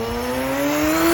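HPI Super Nitro RS4 nitro RC car with a restrictive exhaust and poor steering servo makes a pass toward the listener, its high engine whine holding steady and slowly growing louder over about a second, with no talk.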